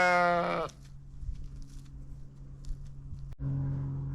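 Lambs bleat on a farm at winter's end, a loud, close, wavering bleat at the start and another beginning near the end, with quiet rustling and faint farmyard noise between them.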